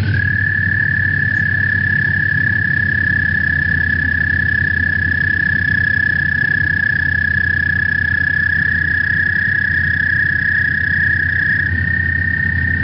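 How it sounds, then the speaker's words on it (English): An American toad gives a long, steady high trill that runs unbroken for the full stretch, loud and close, over a low background hum, with no voices. "So that one's our American toad."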